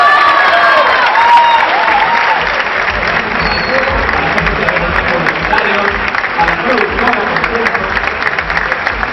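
Gala audience applauding an award winner, sustained loud clapping with some cheering from a large crowd, steady from start to finish, with faint voices under it.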